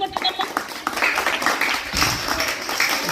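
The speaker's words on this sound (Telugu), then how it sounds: "క్లాప్స్ కొట్టండి అందరూ." Children in a Sunday school class clap together, a brief, fairly near burst of scattered applause mixed with voices talking over it.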